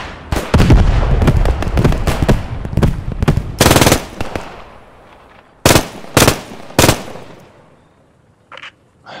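Machine gun fire in Post Scriptum: loud close bursts of rapid shots, several separate volleys with short pauses, fading to quieter distant shots at the end.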